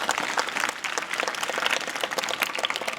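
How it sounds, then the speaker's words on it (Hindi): Enthusiastic applause from a crowd of students at an inter college assembly, dense rapid clapping at a steady level with no voices. "की बहनों के लिए जोरदार ताली बजाइए।"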